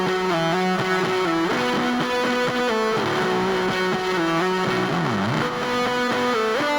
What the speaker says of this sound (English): see what happens if I drive a little bit of harmonic distortion into it